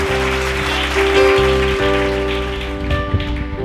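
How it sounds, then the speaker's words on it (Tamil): Congregation clapping hands during a late-night Bible study gathering, a dense, steady patter of many hands filling the room over sustained musical tones, loud and continuous throughout. "கைதட்டுங்க."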